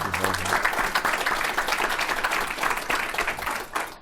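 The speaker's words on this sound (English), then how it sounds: "I think we should give them a round of applause for the way they've conducted themselves" An audience at a mayoral candidates forum breaks into applause, a dense burst of clapping that stays fairly loud and then tails off near the end.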